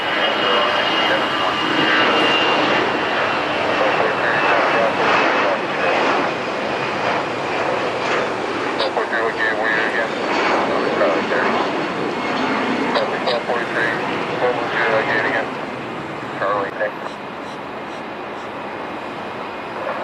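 An American Airlines Airbus A320 jet roars loudly and steadily on its takeoff roll in the morning, a broad continuous engine rush that eases slightly near the end, with a voice talking over it.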